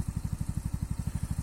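A Stels Kapitan 150 snowmobile engine with a faulty gearbox runs close by, giving a steady, rapid low knocking pulse that repeats evenly throughout, with no voices.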